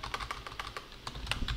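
Command typed on a computer keyboard: a quick, steady run of close, crisp key clicks with no pauses, heard alone.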